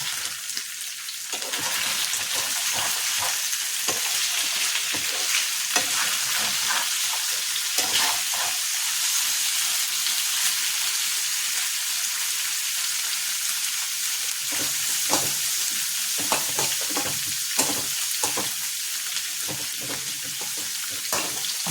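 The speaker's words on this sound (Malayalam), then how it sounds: "അപ്പോൾ സവാളയുടെ പച്ചമണം മാറുന്ന വരെ ഒന്ന് വഴറ്റിയെടുക്കാം ആദ്യം" Onions sauté in a hot pan with a dense, continuous hiss of frying, broken by repeated scraping strokes of stirring that cluster in bursts near the start and again toward the end.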